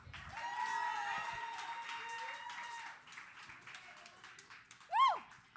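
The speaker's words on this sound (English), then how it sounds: "can we get another round of applause?" Audience at a podcast premiere event applauding and cheering, faint scattered clapping with a voice talking over it and a sharp whoop near the end.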